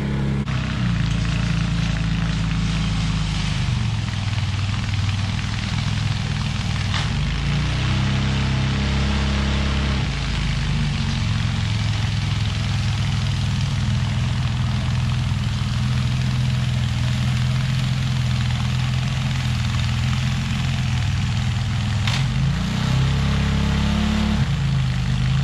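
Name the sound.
Ariens 24-inch Deluxe snowblower engine running and blowing snow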